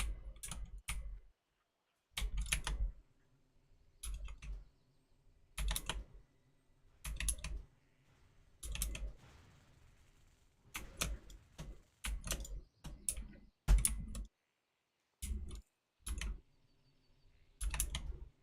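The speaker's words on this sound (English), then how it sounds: "I guess my keyboard's still loud" Loud computer keyboard typing during a streamed gaming session, bursts of rapid clacking keystrokes separated by short pauses, close to the microphone, with no talk.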